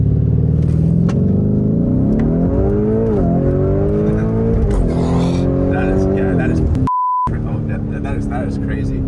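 A Lamborghini Huracan Sterrato in Sport mode pulls away from a stop, its engine rising in pitch over several climbing gear steps, loud and close, with a short electronic beep near the end and talk partly over it.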